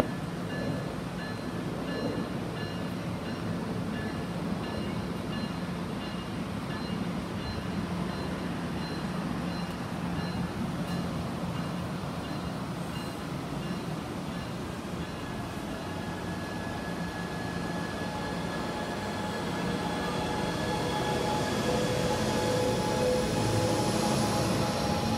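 A passenger train of multi-level cars with an SC-44 locomotive at the rear rolls past a station, a steady rumbling roar with a rising whine near the end, with no talk.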